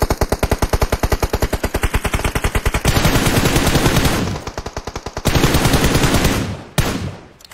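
Rapid automatic gunfire in PUBG Mobile, a loud, steady stream of close shots for nearly three seconds, then blurring into dense continuous firing with brief pauses and a final burst, no talk.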